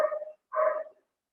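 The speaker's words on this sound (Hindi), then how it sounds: "वो बाहर कुत्ता भौंक रहा है" A dog barking outdoors: two drawn-out, mid-pitched barks, the second following after a short pause, heard clearly without any speech over them.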